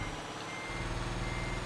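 A heavy truck in Euro Truck Simulator 2 backing up, its reversing alarm beeping steadily over a low, continuous engine rumble, with no one talking.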